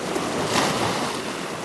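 Sea waves wash against a rocky coastline, a continuous broadband rush of surf with a gentle swell in the middle, loud and close, mixed with some wind.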